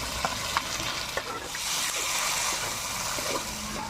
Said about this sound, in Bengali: মশলাগুলো ভাজা হয়ে গেছে, তেল ছেড়ে দিয়েছে, এখন আমি ঢেঁড়সগুলো ঢেলে দিব।